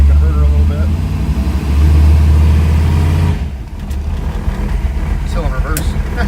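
A 493 cubic inch engine revs against the torque converter, a loud deep rumbling drone that drops off sharply partway through to a rougher idle, with someone talking over it.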